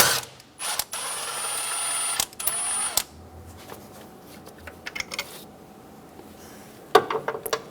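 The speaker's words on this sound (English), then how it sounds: "Using a 17mm socket, we're going to remove the bolt for the motor mount." A 17mm socket on a ratchet works loose a motor mount bolt on a 1994-1997 Honda Accord 2.2L, with bursts of rapid clicking, metallic clinks and scraping, close up and intermittent.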